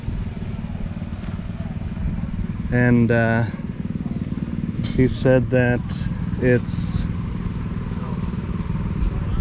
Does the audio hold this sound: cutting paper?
no